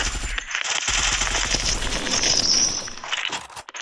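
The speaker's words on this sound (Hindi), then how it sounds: "कोई गोली चला रहा" Gunfire in a duo match of an online shooting game: dense, rapid automatic bursts crackle almost continuously for several seconds, loud and close, with heavy low thumps early on and no talking.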